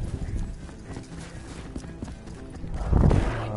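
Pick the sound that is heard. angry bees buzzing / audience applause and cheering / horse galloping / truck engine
horse galloping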